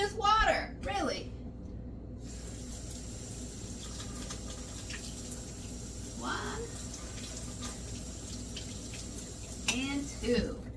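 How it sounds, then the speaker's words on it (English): Tap water runs into a cup in a kitchen, a soft steady trickle at moderate distance, with brief speech at the start and end. "I'm going to get a couple tablespoons of water."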